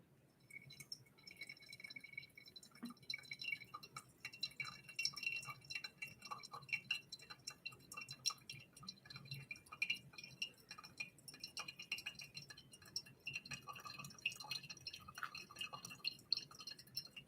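Steady drips and small trickles of water fall through a Hario V60 pour-over coffee brewer, with faint clinks of glass, quiet and continuous.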